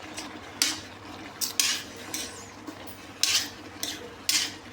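Metal utensils scrape and clatter in a pan as curry paste is stirred, giving bursts of repeated scraping over a low background hum.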